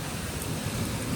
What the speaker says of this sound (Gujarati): જોરદાર વરસાદ ચાલુ થયો છે ભાઈ.